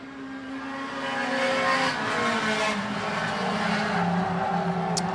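Race cars on an oval short track roar past in a pack, a loud sustained engine drone that rises and shifts in pitch as the field runs close together.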